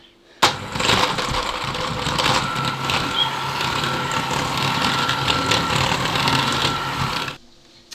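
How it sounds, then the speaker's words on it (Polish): An electric mixer creaming butter with sugar for a family fruit cake: the motor starts abruptly with a loud whirring grind, runs steadily for about seven seconds, then stops. "Proszę, włączaj mikser i działaj."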